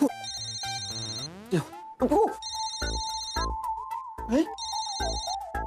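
A melodic electronic phone ringtone plays its repeating chime pattern, bright and near, with a brief voice-like sound mixed in.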